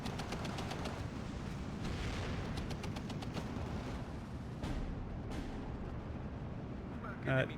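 In the war game Steel Division 2, 45mm mortars and small-arms fire make a dense battle din, with rapid gunshot bursts and thudding blasts over a constant rumble.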